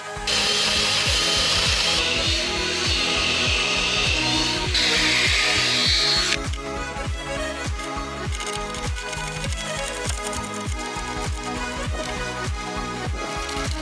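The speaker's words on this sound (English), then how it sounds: "Now I'm just gonna slide my lag bolts in, lag bolt, all the way around." A power tool driving eight lag bolts into wood while building a hunting box blind. It whirs loudly and steadily at first, then gives way to a long run of rapid, rhythmic ratcheting strikes close up, with no talking.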